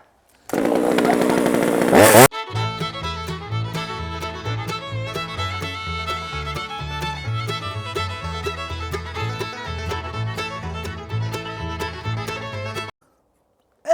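A chainsaw cuts into the wooden wall of a chicken coop, starting with a loud burst and then running steadily at close range for about ten seconds before stopping.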